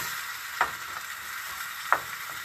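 Shrimp sautéing in a pan on the stove, a steady soft sizzle throughout with two brief sharper crackles or stirring clicks, close by and with no one speaking.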